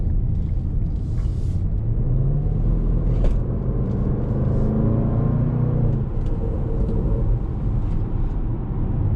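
Supercharged V8 of a 2021 Range Rover Sport SVR accelerating, a loud continuous low rumble whose pitch climbs through gears, dips, then rises again, with no talking.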